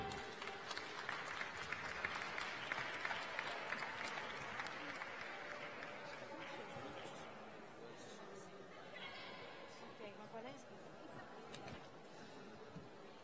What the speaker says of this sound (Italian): Un applauso ancora